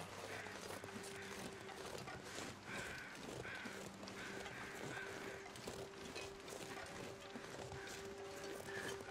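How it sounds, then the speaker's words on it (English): Crows cawing in a snowy wilderness in the survival game The Long Dark, a few faint calls repeating now and then against a steady wind-like background hiss. "I can hear the crows. I wonder what those crows are on about."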